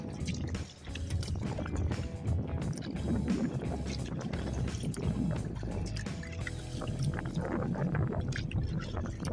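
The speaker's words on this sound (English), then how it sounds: "A little bit of wind." Wind gusting over open water at a beach during a solo canoe trip, a steady broadband rush with buffeting low rumble and faint lapping water, continuous and close throughout.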